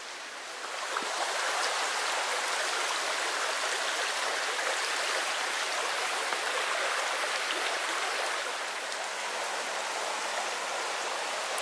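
Steady rushing of the Petite Creuse stream in France, a dense continuous wash of water noise, close and unbroken throughout.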